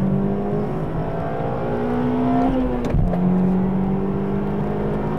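A Honda Integra Type R (DC2/DB8) engine holding sixth gear at high speed, a loud steady in-cabin drone with a brief pitch dip partway through as it rolls on.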